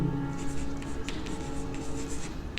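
Marker or pen writing on a board during a math lesson, with faint scratchy strokes in short bursts throughout under a steady background hum.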